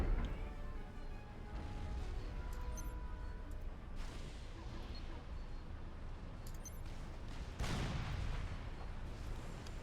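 Artillery cannons firing in a strategy video game, a few distant muffled booms with crackling bursts rising over a steady low rumble of battle, fairly faint under the game's background noise.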